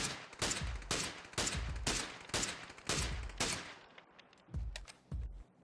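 Gunshots from a scoped rifle in PUBG ring out as about eight loud, evenly spaced single shots, then a short pause and two quieter shots.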